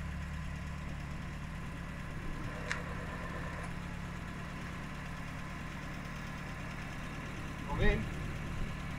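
Citroen DS engine idling steadily at a low, constant rumble throughout, with a brief clatter near the end.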